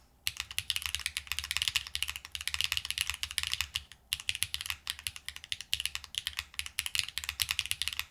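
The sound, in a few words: typing on Agar Micro keyboard, HMX Snowfall switches, aluminum plate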